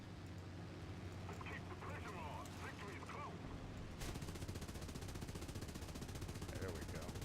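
Aircraft machine guns in the War Thunder air battle game rattle in rapid bursts, a dense crackling stream that grows louder and more continuous in the second half, with a voice speaking over the firing.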